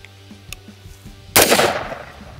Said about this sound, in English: we're gonna see what happens when you shoot a lithium iron phosphate battery